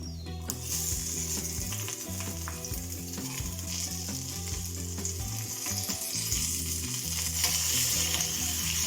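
Shallots and curry leaves tempering in hot coconut oil for a coconut-milk prawn curry, a steady loud sizzle and crackle of frying that runs unbroken throughout, close to the pan.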